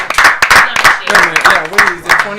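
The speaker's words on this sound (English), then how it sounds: "Give them a round of applause." Applause at a game-show-style cooking event after a prize announcement, heard as bursts of clapping mixed with loud, close speech and cheering voices.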